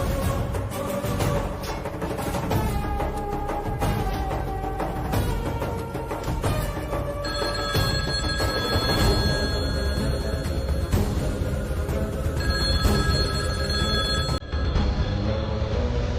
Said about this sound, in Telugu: వెళ్ళి ఆ ఫోన్ చూడు